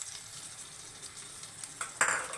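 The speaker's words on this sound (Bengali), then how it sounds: "আস্তে আস্তে চিনি দিয়ে নাড়বো।" Fried jujube pickle is stirred with sugar in a pan, producing a soft steady sizzle with faint scraping strokes, then a sharper metallic scrape and clatter near the end, close and fairly quiet.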